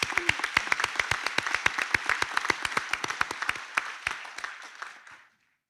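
Audience applauding graduates at a 2021 graduation ceremony, a modest group of sharp, distinct claps in a quick irregular rhythm, fairly close, fading out and stopping after about five seconds with no speech.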